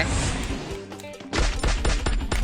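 Gunfire in the battle game Free Fire: a dense, rapid run of sharp shots and crashing impacts that eases briefly, then returns in loud, close bursts, with no talk over it.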